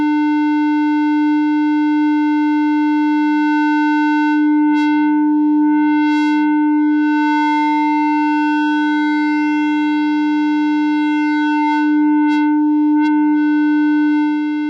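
A loud, steady buzzing tone rich in overtones, a sine wave softly clipped by a Vocodec distortion preset into a softened square wave, holding for a long stretch with slight wavering.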